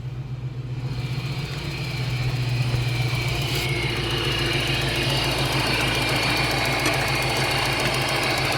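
A supercharged Toyota 1UZ VVTi V8 engine in an Isuzu VehiCROSS idles steadily nearby with a deep, rhythmic rumble and a faint mechanical whine, running continuously without talk.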